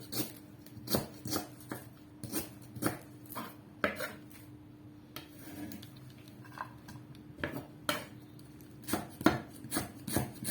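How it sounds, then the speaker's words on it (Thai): A knife chops shallots rapidly against a cutting board in quick, uneven bursts of sharp taps, close and clear with short pauses between runs. "หั่นหอมแดงแล้วนะ"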